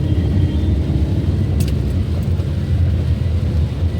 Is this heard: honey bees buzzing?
no